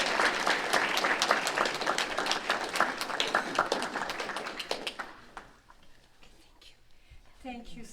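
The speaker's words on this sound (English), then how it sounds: "If you could help me welcome her with a round of applause." A round of applause from an audience welcoming a guest speaker, crisp clapping that runs for about five seconds and then fades out, followed by quiet room tone and a brief voice.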